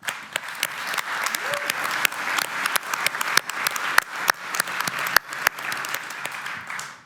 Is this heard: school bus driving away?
no